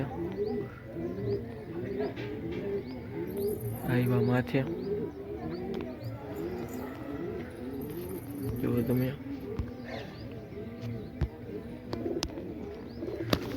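Several pigeons coo steadily in rolling, overlapping calls, while someone talks over them nearby.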